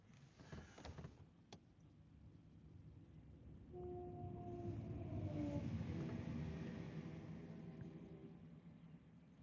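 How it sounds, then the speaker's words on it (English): A Class 195 train rumbles past at a moderate distance, a steady low roar that swells in the middle, with a brief horn-like tone partway through. "that train that's just gone past blowing his horn"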